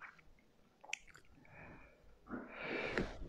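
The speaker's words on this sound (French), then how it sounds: "je sens que je vais éternuer" One person sneezes indoors during a live broadcast: a soft intake of breath builds up, then a breathy, hissing burst of the sneeze near the mic.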